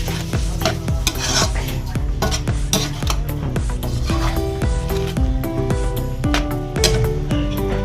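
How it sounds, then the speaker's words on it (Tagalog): Squid and shrimp are stirred in a pan, with a steady run of close metallic spatula scrapes and clinks over a light sizzle, rhythmic and fairly loud, with no voices. "haluin lang natin"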